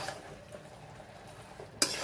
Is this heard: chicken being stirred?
yes